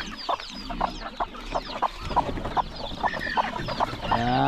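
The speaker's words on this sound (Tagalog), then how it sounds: "Kaya halos linggo-linggo may madagdag sa ating mga manok dito na sisiw." Farm chickens cluck close by in quick repeated bursts, several birds overlapping in a busy rhythm, with a few higher peeps mixed in.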